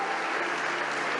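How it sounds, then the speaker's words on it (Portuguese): Church congregation applauding together during a sermon, steady dense clapping filling the space at close range with no pause. "Em nome de Jesus, você pode aplaudir o Senhor"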